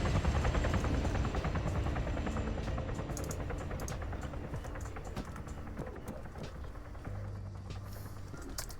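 Helicopter engine and rotor drone from a Hellcat lifting off in Call of Duty: Modern Warfare 3, a steady loud whine and thrum that fills the whole clip, easing slightly toward the end with no talk.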